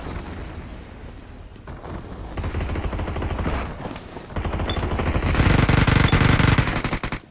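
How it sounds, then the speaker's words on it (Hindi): Heavy automatic gunfire in a battle royale mobile game, rapid rattling bursts that build and grow louder toward the end, steady and dense with no talk. "लेफ्ट में से साउंड आई कि खतरनाक वाली फायरिंग चल रही है"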